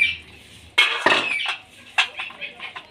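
A cooking-pot lid lifted off a simmering cauliflower curry made with fat: a short burst of close metallic clatter and clanks, then a few lighter knocks trailing off.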